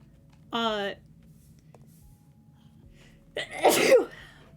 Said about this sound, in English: More fuel for VTuber sneezes.